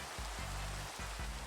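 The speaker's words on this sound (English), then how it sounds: "Now it started raining." Rain falling in the Minecraft video game, a dense steady wash of rainfall with a low throbbing hum pulsing underneath.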